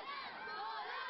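About 500 schoolchildren shout together in unison outdoors, a dense sustained roar of young voices held at a steady level, faint and distant-sounding throughout.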